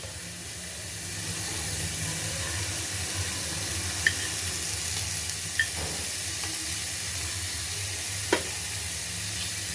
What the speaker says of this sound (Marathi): आणि तो तुपावर चांगला परतून घेणार आहोत.